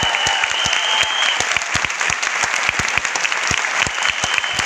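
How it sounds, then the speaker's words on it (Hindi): Loud, steady audience applause fills a hall at a motivational success-story event in Bhopal, with sharp individual claps standing out over the dense crowd clatter for several seconds. "तो एक बार जरा मेरे लिए तालियां बजाएंगे जोरदार वाली।"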